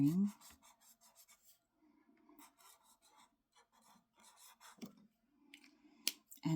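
A stiff brush-tip watercolor marker scratches over paper in short, dry strokes, faint and close, with brief raspy bursts separated by pauses.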